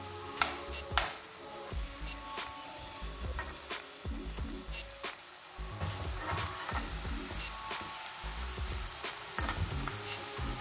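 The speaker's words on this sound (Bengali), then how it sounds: "এগুলো আমার প্রায় ভাজা হয়ে এসেছে, আর 1 মিনিটের মতো মিডিয়াম ফ্লেমে ভাজলে কিন্তু রেডি হয়ে যাবে আমার ফুলকপির মচমচে ক্রিস্পি পকোড়া" Cauliflower pakoras deep-frying in oil over a medium flame, a steady close crackling sizzle with scattered pops and light clicks running throughout, no voices.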